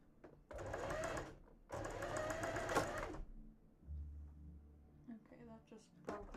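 A sewing machine stitches double-layered fabric for a cosplay undershirt in two loud, close bursts, with a brief pause between them; the thread breaks, then quieter handling noises and talking follow.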